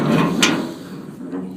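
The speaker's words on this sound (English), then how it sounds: "I cut that off so I can open the door all the way." Metal door on a rust-repaired Coose stock trailer swung open, a short scraping creak with a clank and a second fainter rattle, close and fairly loud.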